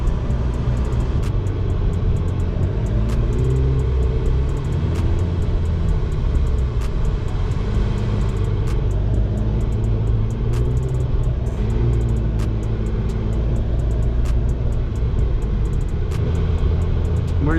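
A modified 2024 McLaren 750S engine hums and rumbles steadily from inside the cabin, pitch rising and falling as it accelerates and shifts.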